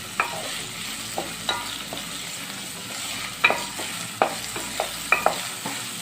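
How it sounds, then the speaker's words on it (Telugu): Onions frying in a pan for Andhra-style egg pulusu produce a soft, even sizzle, punctuated by several distinct spoon-against-pan clinks as they are stirred. "ఉల్లిపాయ వేగిపోయింది, టమాటా ముక్కలు వేస్తున్నాను"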